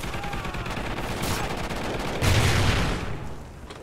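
Rapid gunfire in a video game shootout, a dense burst of shots running steadily throughout, loudest near the middle and tailing off at the end, with no talking.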